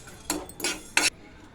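Coriander seeds and cumin dry-roasting in a pan, stirred with a utensil that scrapes in three short, close bursts, with no voices.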